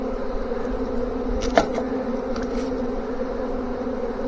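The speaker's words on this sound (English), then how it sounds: "These bees over here fanning like crazy" Honey bees fanning at a swarm trap make a steady, close droning hum throughout, with a few individual buzzing bees passing by.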